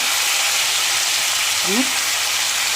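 Fish coated with turmeric and ground spices fries in a pan, giving a steady, loud, close sizzle that holds evenly throughout, with one brief faint tone partway through.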